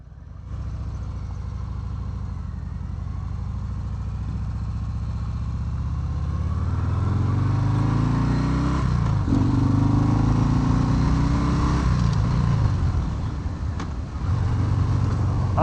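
Harley-Davidson FXDR motorcycle being ridden, a close engine rumble that climbs steadily in pitch through the gears and dips at shifts, over wind noise, with no talk.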